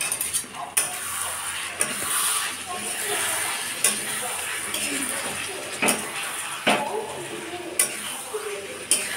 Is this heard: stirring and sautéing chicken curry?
yes